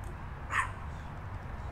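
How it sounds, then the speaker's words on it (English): A small, chatty pup gives a single faint yip at an outdoor park gathering, brief and distant over a steady low background hum. "hello to that chatty little pup"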